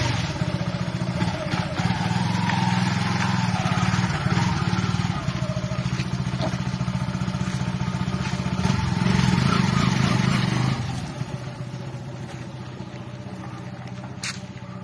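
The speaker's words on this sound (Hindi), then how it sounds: "तो आप सबसे पहले अब इसकी एग्जॉस्ट की साउंड सुन लो।" A Yamaha FZ V3 motorcycle with a modified setup idles close by, its exhaust giving a steady, throbbing engine rumble that holds for most of the stretch, then eases off slightly near the end.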